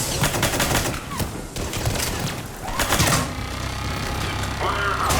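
An engineer's turret in Mass Effect 3 Legendary Edition fires rapid bursts that crackle through a busy combat mix, loudest at the start and settling into continuous battle noise.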